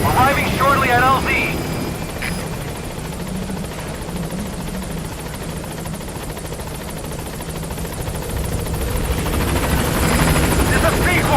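The Pequod helicopter in Metal Gear Solid V approaches a landing zone with a loud, steady rotor thrum and engine whine, while radio chatter and voices speak over it throughout.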